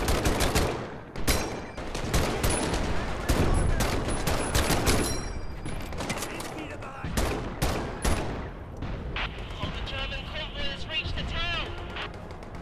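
M1 Garand rifle gunfire in the Medal of Honor: Above and Beyond video game, a dense run of loud sharp shots over battle noise and explosions, with talk over it.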